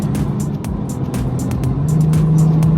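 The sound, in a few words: BMW F30 340i accelerating and downshifting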